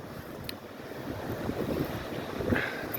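Ocean waves washing ashore with gusting wind at Fishing Rock beach, a steady broadband surf roar that swells slightly toward the end, with wind buffeting the microphone and no talking.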